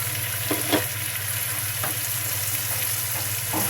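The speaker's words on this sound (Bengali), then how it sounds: "অন্য মরিচ হলুদ দিয়ে দেব। একটু ভেজে নেই" Poma fish frying with chili and turmeric in hot oil, a dense, steady sizzle close up, punctuated by a few light spatula scrapes and taps, no voices.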